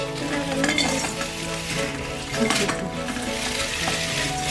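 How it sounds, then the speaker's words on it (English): Nine Weetbix cereal biscuits being crushed in a bowl make a continuous dry crackling and crumbling close by, with a few light knocks against the bowl and no speech. "we're going to crush up 9 Weetbix, not your sister, the Weetbix, into a bowl"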